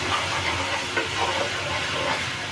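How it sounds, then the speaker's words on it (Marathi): Ginger-garlic paste frying in a pan for palak paneer gives a steady, dense, even sizzle that holds unbroken throughout, close and moderately loud, with no talk. "थोडी आलं लसूण पेस्ट परतूया आणि मग कांदा घालू."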